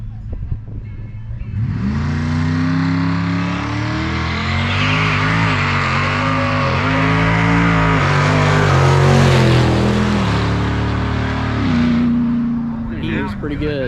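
At a drag race, a junkyard turbocharged 5.3 LS car faces Coyote Ford Mustangs, and the cars roar off hard and loud, with rising turbo engine notes, tire noise and a long sweeping pass. Voices are faintly audible underneath.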